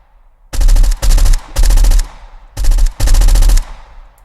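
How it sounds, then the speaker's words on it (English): Designed machine-gun sound effect from Krotos sound design software, five loud, booming bursts of rapid automatic fire separated by brief gaps, heard alone and very close. "I can create like quick machine gun."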